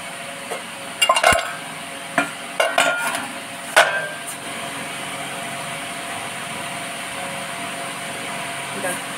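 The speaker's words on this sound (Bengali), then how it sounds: "আলু সয়াবিন আর কাঁঠালটাও দিয়ে দেবো।" Potato, soybean and jackfruit pieces drop into a pan for a jackfruit and soybean curry, giving a few short clattering knocks early on over a steady kitchen hiss, then only the hiss continues.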